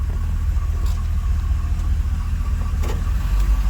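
A 1931 Ford Model A Roadster engine runs steadily at close range, a continuous low rumble with faint intermittent rattles over the top and no talking.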